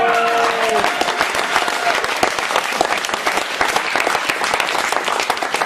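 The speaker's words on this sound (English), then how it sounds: "Can you clap for the fact that I didn't have to do anything for this show?" Sustained audience applause fills a small live literary reading event, dense and steady clapping from a crowd with no pauses, loud and close throughout.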